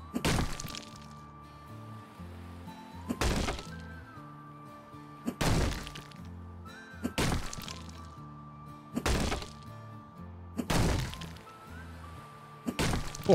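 Heavy hammer smashes in the video game House Flipper 2 crash down about every two seconds, six or so in a row, each a sharp shattering impact over steady game music.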